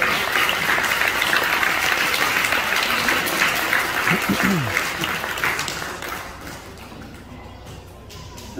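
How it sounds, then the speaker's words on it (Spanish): A crowd applauds a quinceañera's entrance with dense, sustained clapping that gradually fades toward the end. "regalen un fuerte aplauso a esta hermosa quinceañera"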